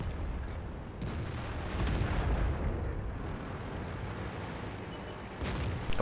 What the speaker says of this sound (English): Now I'm just going to shoot for his top.